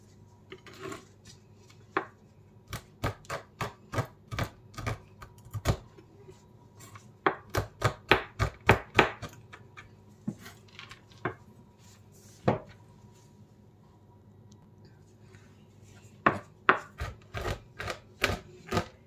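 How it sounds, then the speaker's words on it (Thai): A knife slices through semlor buns on a board, giving a run of crisp, close cuts in irregular bursts and clusters with short pauses between them. "เดี๋ยวนี้จะหั่นก่อนนะคะใช้เวลานิดนึงค่ะ"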